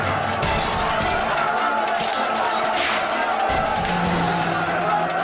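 A dense, agitated crowd during the 2008 Athens riots, with a constant roar of many voices, shouts and scattered street noise filling the scene at steady loudness.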